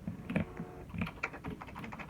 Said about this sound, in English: I am on my computer typing on the keyboard.